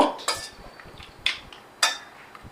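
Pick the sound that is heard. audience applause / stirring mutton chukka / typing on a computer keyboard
stirring mutton chukka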